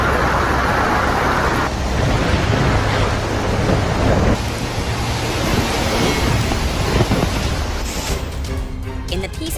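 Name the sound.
thunderstorm with heavy rain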